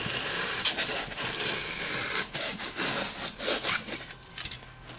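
A serrated knife sawing through a block of FuelBan foam modelling material, giving a close, rasping back-and-forth scrape in uneven strokes that thin out toward the end, with no talking.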